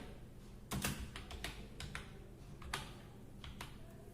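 Item names are typed into an Excel spreadsheet on a computer keyboard, heard as scattered quiet key clicks in short irregular bursts with pauses between, close up against a faint background hiss and with no talking.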